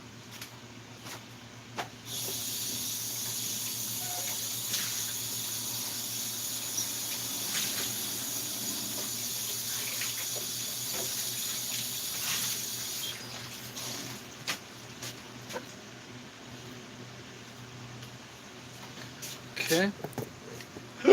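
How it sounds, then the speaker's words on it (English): A kitchen sink tap runs in a steady hiss while something is rinsed under it for about ten seconds, then shuts off, followed by light handling noises and a person talking. "I'm gonna rinse this."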